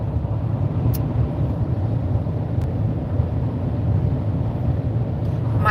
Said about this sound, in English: I don't know if you guys caught it from all the car noise, the road noise, because I'm driving